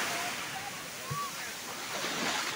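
Sea waves wash in at a beach in Goa in the early morning, a steady broad rushing surf with some wind noise and faint distant sounds, fairly soft overall.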